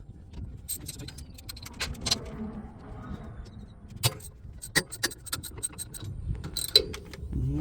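A hand ratchet clicks in short bursts while loosening bolts on a semi truck's air dryer, with sharp metallic snaps and clatter spaced irregularly over quiet shop background.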